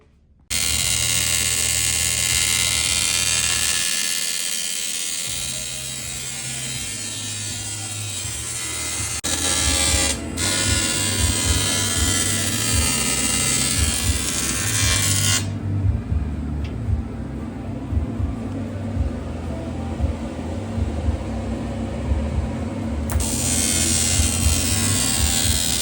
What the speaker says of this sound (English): do some welding.